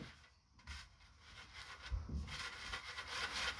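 A surface is scrubbed by hand while a room is cleaned, giving faint, soft rubbing strokes in short uneven bursts, close by and quiet, with no talk.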